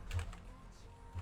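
A few quick keystrokes on a computer keyboard, close and fairly quiet, with a short pause between clusters of taps.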